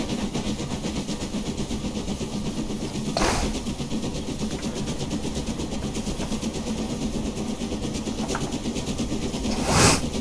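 Steam locomotive running in a rail simulation game, an LMS Princess Royal 4-6-2 express engine, giving a steady rolling rumble with rapid chuffing and hiss, two sharp louder bursts standing out near and alone without any voices.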